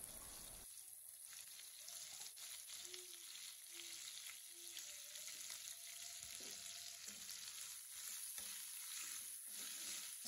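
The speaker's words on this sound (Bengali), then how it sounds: "পেঁয়াজটাকে আমি এখানে হালকা ফ্রাই করে নেব।" Onions fry lightly in a pan with a steady, soft broadband sizzle and occasional stirring scrapes, close and continuous for about ten seconds, with no talking.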